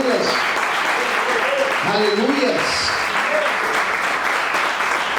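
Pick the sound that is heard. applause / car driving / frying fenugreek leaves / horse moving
applause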